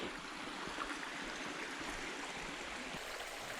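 Brockle Beck, a small stream in the Lake District woods, flows gently downhill, giving a steady soft rush of bubbling water. The sound is continuous and close, with no voices.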